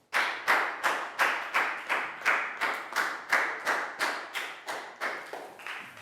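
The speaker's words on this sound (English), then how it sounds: "And a big round of applause for Net." Classroom clapping for a Year 4 pupil during an English lesson, a slow, even series of about fourteen distinct claps, each sharp and close with a short decay, steady rhythm throughout and no talking.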